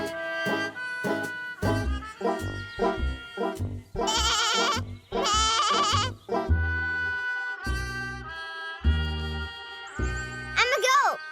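Bleats from a goat in an animated farm-animal storybook for children come in short, bright, wavering bursts alongside bouncy music and sound effects, loud and up front.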